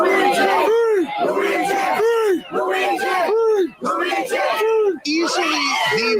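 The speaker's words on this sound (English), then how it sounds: "They were cheering this and chanting, Luigi!" A large crowd of supporters shouts and yells together in loud, rhythmic bursts, voices rising and falling in repeated chant-like phrases at close range, with no clear break between the waves of cheering.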